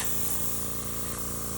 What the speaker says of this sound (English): I know I'm doing a constant spray, but I'm doing just really quick passes